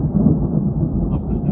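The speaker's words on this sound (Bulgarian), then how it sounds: "как гърми" Loud, close rumble of thunder in a thunderstorm on a perch and mullet fishing trip, a deep continuous roll lasting the whole stretch.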